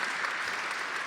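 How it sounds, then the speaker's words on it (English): Audience applause at a talk, a dense, even wash of clapping from many hands that holds steady and fairly loud for the whole second. "You can clap, that's allowed."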